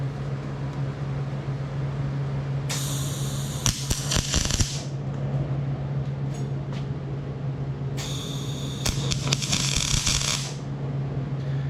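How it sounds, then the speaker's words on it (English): An arc welder tack-welds steel nuts onto a Harbor Freight US General tool cart in two crackling bursts a few seconds each, close and loud over a steady low electrical hum. "those nuts are tacked on"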